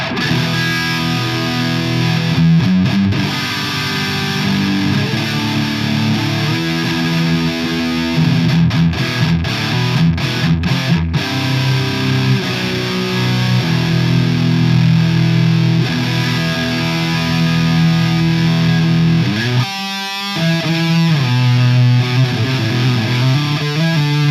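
Heavily distorted electric guitar through the heavy channel of a Koch Supernova amp, played without effects, chugging riffs and sustained chords with a thick, saturated tone, loud and continuous.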